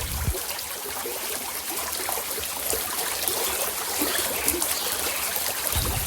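A lively stream bubbles and splashes steadily through a wooded national glen on the Isle of Man, a constant close rush of water with no voices.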